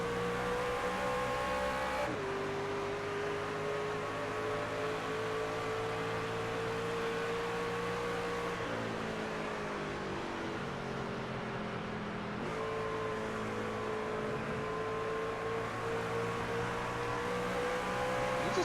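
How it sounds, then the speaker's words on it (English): Race truck engine in a sim racing game of the truck series at WWT Raceway, a steady loud droning whine with throttle rising and easing in smooth cycles, continuous for the whole stretch with no talk. "Just listen to that throttle rhythm too, man."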